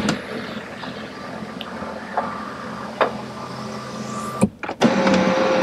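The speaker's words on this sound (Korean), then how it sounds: "그 다음에 썬루프." Sunroof on a BMW F10 528i sliding open with a steady electric motor whine inside the cabin, a few clicks along the way, then a thunk and a brief pause before the motor hums again.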